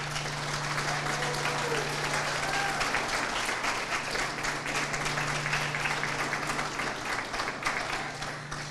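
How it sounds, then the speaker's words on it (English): Sustained applause from an audience at a Galt youth unsung heroes award event, steady and fairly loud for the whole stretch, with a faint low hum underneath and no talking. "Let's give them a round of applause."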